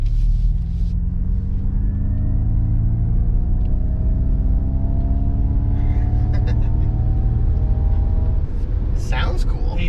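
A 2021 Ford Mustang Mach-E AWD electric SUV cruising at about 80 mph, heard from inside as a steady loud road and wind rumble with a rising whine over the clip; people talk over it.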